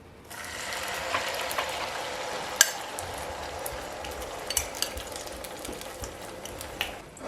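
An egg sizzles as it goes into heated oil in a pan on low heat, a steady, fine crackle with a few sharp pops and ticks over several seconds.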